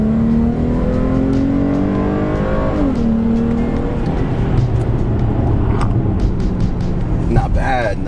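A 2016 Dodge Challenger SXT Plus V6 accelerates hard along a straightaway, its engine note climbing steadily with a shift, heard from inside the cabin as someone speaks over it.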